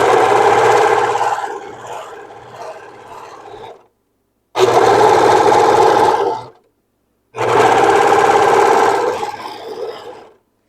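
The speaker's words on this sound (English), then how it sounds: "This one I'm sewing down to right here." Sewing machine stitching a seam on a blue halter dress, loud close whirring in three steady runs of about two to four seconds each, separated by short silences.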